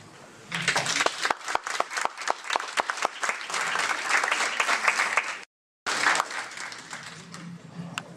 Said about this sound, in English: you have to applaud you guys